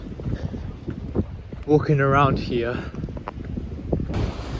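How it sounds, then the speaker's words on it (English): Strong wind on a beach in Poland buffeting the microphone in a steady rumble, with someone talking over it throughout. "it is really bloody windy over here"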